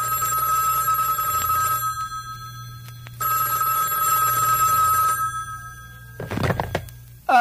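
A telephone bell rings in two long, loud bursts separated by a short pause, followed by a clatter as the receiver is picked up, in a skit for a traditional Venezuelan gaita song.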